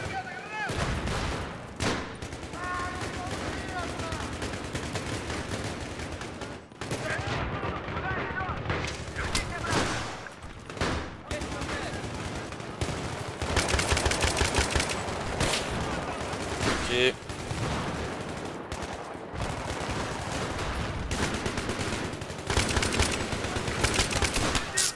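Dense, sustained gunfire in Battlefield 3 on the Grand Bazaar map, with rapid automatic bursts and booming blasts crowding the whole stretch, loud and nearly continuous, with a voice talking over it.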